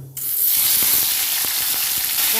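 Chopped tomato dropped into hot oil seasoned with cumin seeds sets off a sudden loud, close sizzle that holds as a steady crackling hiss.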